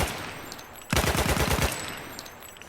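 A rapid automatic burst from a video game gun, about a dozen close, loud shots at a very high fire rate lasting under a second, then fading into a reverberant tail.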